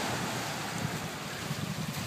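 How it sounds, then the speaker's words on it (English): Steady wind and crashing surf on Chin Beach roar continuously and loudly, with broad rushing wind noise buffeting the microphone and no speech. "I'll get out of this wind."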